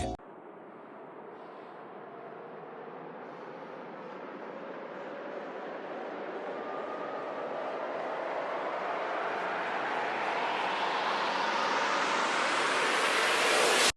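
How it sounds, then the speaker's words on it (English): A white noise riser that sweeps steadily upward in pitch and grows louder over about fourteen seconds, ending abruptly at its peak. "I also added in a sweeping white noise riser to further help build up the tension of the track."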